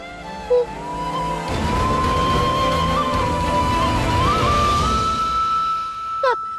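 A car brakes hard to a stop, a long rising tire squeal over engine noise lasting several seconds, loud and close, ending with a short scrape.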